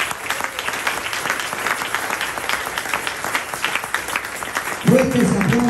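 A church congregation claps loudly and steadily throughout, a dense even patter, with a voice speaking over it near the end.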